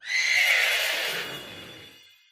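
Glastrier, the ice-type Wild Horse Pokemon, gives its video game cry, a single shrill whinnying neigh that is loud at first and fades out over about two seconds, heard alone.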